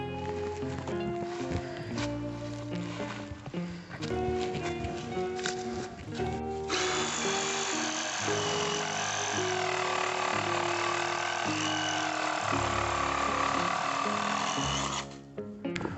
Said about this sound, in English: don't you think it'd just be quicker to use the Sawzall?